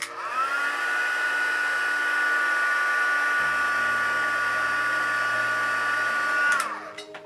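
A handheld heat tool blows steadily to heat-set makeup powder on a toe, a loud, even whine holding for several seconds before cutting off near the end, with a low hum added partway through.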